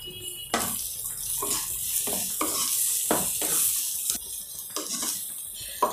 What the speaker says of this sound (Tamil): இது துருகின நெல்லிக்காயை போட்டுடலாம். ஒரு 5 மினிட்ஸ் வதக்குங்க.